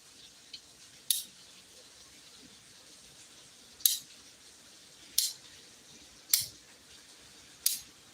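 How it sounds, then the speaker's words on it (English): A ratcheting PVC pipe cutter clamps down on plastic pipe, giving five sharp, crisp clicks at irregular intervals. The clicks are close and distinct, with quiet between them and no talking. "This is for cutting PVC. See how it ratchets? It's got those ratcheting teeth."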